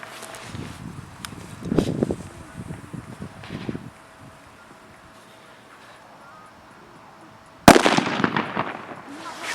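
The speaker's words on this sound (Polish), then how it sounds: "FP5 od Jorge. To taka słowa petarda." An FP5 firecracker goes off outdoors with a single sharp, loud bang late in the clip, preceded by rustling footsteps and handling noise, then a quiet pause before the blast and its brief trailing echo.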